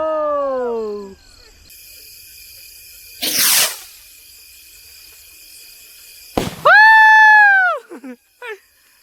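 Homemade sky-shot firework rockets shriek with falling and rising pitches as they climb, broken by a sharp bang and a loud crackling burst high in the sky, all fairly close and loud.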